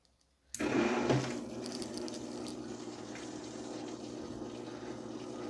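An SB2000 machine switches on with a sudden onset, then runs with a steady loud churning and swirling of water under a lid, continuous and close.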